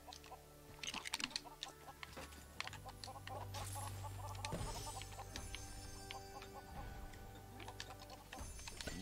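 Chickens cluck in the Lego Worlds video game, mixed into a busy layer of game music and effects with steady ticking.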